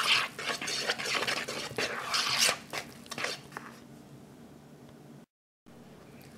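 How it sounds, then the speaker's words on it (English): A spoon stirs Ghanaian bofrot (puff puff) dough batter mixed with flour in a bowl. Thick, wet scraping strokes come in quick bursts for a few seconds, then fade to quieter stirring, followed by a brief silence. "You have to stir it around."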